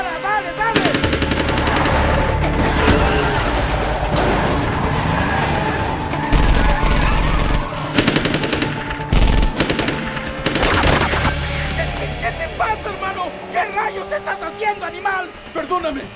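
Dense automatic gunfire and loud engine roar fill a highway car chase scene from Bad Boys 2 (2003), with a voice shouting in Spanish over it. The bursts continue through the scene, later mixed with tire skids and crashing.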